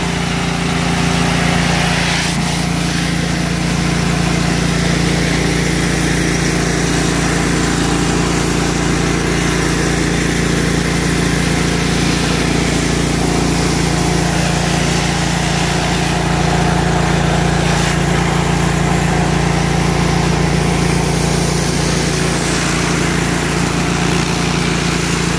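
An 8 gpm, 3500 psi pressure washer trailer engine runs loud and constant nearby, a steady droning hum with a high whine layered over it throughout.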